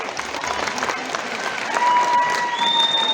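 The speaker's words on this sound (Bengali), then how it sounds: "হাততালিটা আস্তে হয়ে গেছে, ভীষণ ভিড়ে, একটু জোরে হাততালি চাই দুর্গাপুর।" Applause from a large crowd at a cricket event in Durgapur, dense continuous clapping that swells slightly louder toward the end, with a faint whistle-like tone over it.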